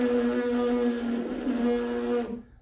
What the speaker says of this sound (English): if you do it correctly, you should get a buzzing sound.